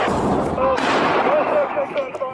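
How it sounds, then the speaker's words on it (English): A burning vehicle carrying a propane tank sends out a loud, dense rumble of blasts and crackling pops, with a sharp burst near the start and voices nearby over the roar. "Still have multiple explosions coming from his vehicle."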